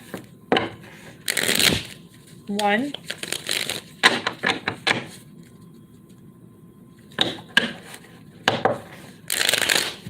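Tarot cards are shuffled up close in quick riffling, flapping bursts, two main rounds with pauses between them, while a voice speaks briefly in the gaps.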